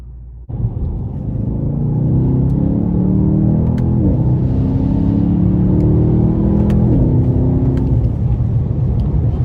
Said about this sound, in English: And that exhaust just sounds so amazing.